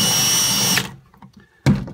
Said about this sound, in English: I'm gonna try to drill this really tight